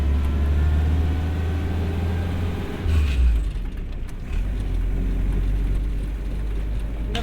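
A restored WWII Jeep engine runs steadily while the vehicle drives, a loud continuous low rumble with a brief surge near the middle, no voices.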